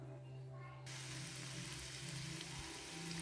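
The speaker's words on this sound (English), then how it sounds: "Here I am shallow frying it." Steady hiss of batter shallow frying in hot oil, a continuous crackling bed that brightens and intensifies after the first second.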